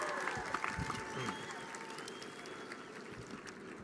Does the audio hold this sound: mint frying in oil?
no